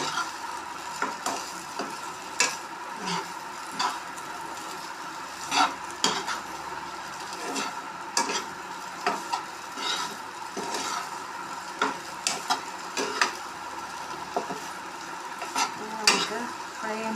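Food fries in a pan with a steady sizzle while a utensil stirs it, giving repeated scraping and clinking taps against the pan at close range. Nobody speaks.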